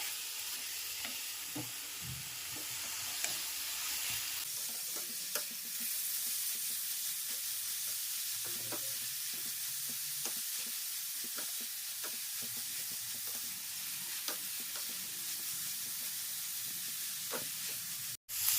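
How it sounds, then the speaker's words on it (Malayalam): Cabbage and moong thoran fries quietly in a pan with a continuous soft sizzle and hiss, broken by scattered scrapes and taps as it is stirred. "നന്നായിട്ട് ഇളക്കി കൊടുക്കാം"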